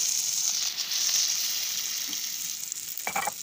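A steady, hissing sizzle from a hot pan cooking fish sarciado, flaring with a short burst of louder crackling near the end as water is added.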